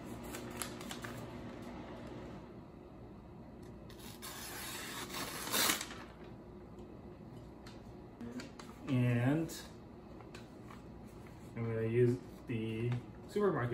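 A Shun kitchen knife slicing through a sheet of paper, with soft rustling and a couple of crisp, brief swishes of the blade, while a person talks quietly at intervals between the cuts.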